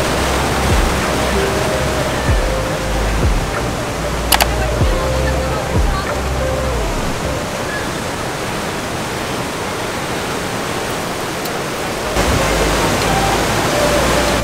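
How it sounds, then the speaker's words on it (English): A waterfall in a remote spot at Maldevta near Dehradun, Uttarakhand, a loud, steady rushing roar of falling water throughout, with brief faint tones and a slight shift in level near the end. "So here is that waterfall."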